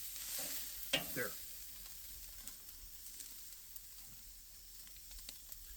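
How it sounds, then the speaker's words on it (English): Steaks searing on a Weber grill at a farm give a faint, steady sizzle with a few soft clicks and a brief scrape of handling near the start. "Got a nice sear. Got that locked in there really well."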